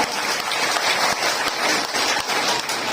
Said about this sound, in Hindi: जोरदार तालियों से आप लोग स्वागत कीजिए इनका